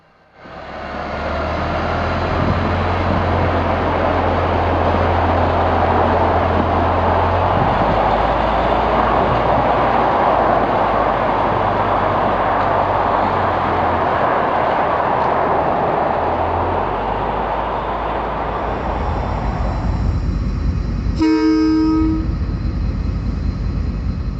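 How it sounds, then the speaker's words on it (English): A Niigata diesel locomotive hauling a passenger train rumbles past steadily for most of the stretch, a loud continuous engine drone with wheel noise, ending with a brief sharp horn-like tone. "saw the Niigata locomotive hauling the passenger train again"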